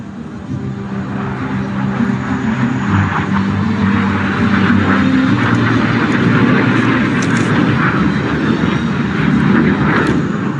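HAL Tejas fighter jet flying past at the Dubai Airshow, a loud, continuous engine roar that holds steady throughout with a broad rushing texture.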